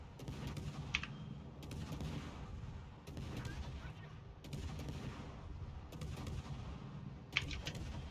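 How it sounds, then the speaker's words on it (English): Friesland destroyer's naval guns firing in a warship video game: a series of deep booming salvos roughly every one to two seconds, heavy and evenly repeated over a rumbling background, with a little talk underneath. "I need to deal some damage, so I'm just gonna blind fire him."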